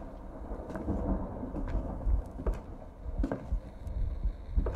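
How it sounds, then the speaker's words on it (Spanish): A thunderstorm rumbles in the Minds Eyes video game, with deep rolling thunder and scattered cracks over a low, steady storm bed, no speech heard. "es una tormenta, ¿eh?"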